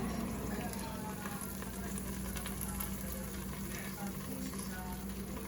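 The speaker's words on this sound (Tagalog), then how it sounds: "cooking some fish." Rosemary fish fries in a pan with a faint, steady, continuous sizzle and a low hum in the background.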